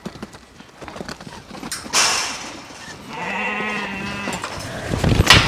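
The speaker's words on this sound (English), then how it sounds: "All your lambs are in the back now." Sheep and lambs being herded at weaning time: scattered hoof clatter and shuffling, then a drawn-out bleat in the middle and more noisy scuffling near the end, fairly close.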